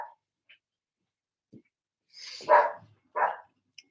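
A dog gives a few short, sharp barks at a reversing truck next door, heard as scattered brief yelps close by with a louder pair near the end, amid quiet.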